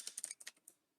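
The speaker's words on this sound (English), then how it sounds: "I am failing miserably at typing" Quick, uneven keystrokes on a computer keyboard, about eight close, light clicks in a short burst that trails off into quiet.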